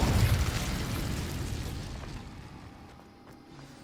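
An Incendio fire spell bursts in Hogwarts Legacy, a loud fiery blast that opens the moment and then rumbles and crackles away over a few seconds, with no talk over it.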